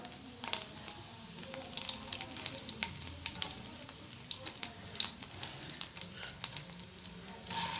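Cumin and dried red chillies spluttering in hot oil for a South Indian banana flower poriyal, a fairly quiet, crackly sizzle broken by sharp intermittent pops, with faint clinks of a utensil and no talking.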